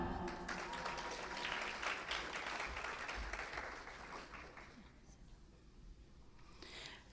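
A faint round of applause from the audience at a 2021 high school graduation ceremony. The clapping is dense at first, then thins and fades toward the end, with a few murmuring voices.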